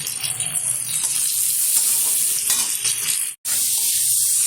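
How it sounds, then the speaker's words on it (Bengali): Chopped tomato peel and salt cook in a hot pan, giving a continuous close sizzle with spatula stirring, briefly cut off by a sudden silence before the hiss resumes. "একটু ভালোভাবে নেড়ে চেড়ে নেব।"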